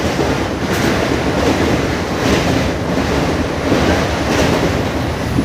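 A train rumbling past close by, a loud, steady roar of wheels on rails with slight rhythmic surges throughout.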